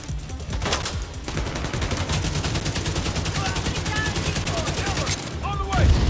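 Sustained automatic gunfire in The Division, a rapid, even stream of loud shots rattling without pause for several seconds, with brief voices calling out over it.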